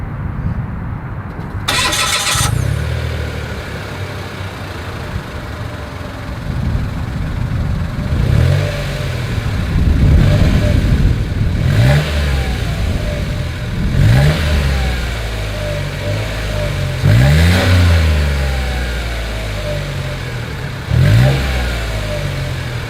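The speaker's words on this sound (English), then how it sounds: "here is that exhaust clip" A 2022 Mitsubishi Mirage engine cranks and starts, then is revved repeatedly, each blip rising and falling through a close, throaty exhaust.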